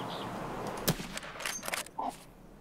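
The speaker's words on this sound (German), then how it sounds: "Ich hab einen Schuss gehört." A few sharp gunshot cracks ring out in the video game Escape from Tarkov, one prominent shot followed by scattered quieter pops.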